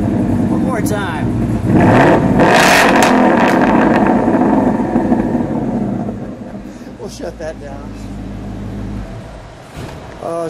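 Loud close revs from a 2017 Roush Stage 3 Ford Mustang with a Borla exhaust: a strong throttle blip climbs and settles back to a burbling idle that fades lower, with voices talking throughout.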